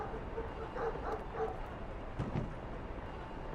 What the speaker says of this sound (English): I'm not going to pet a mangy, flea-ridden dog.